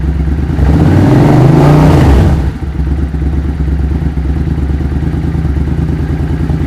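A Suzuki VS800 Intruder motorcycle engine is held at a little throttle during carburetor synchronization, giving a loud, close, raised drone for about two seconds before it drops back to a steady, lumpy idle.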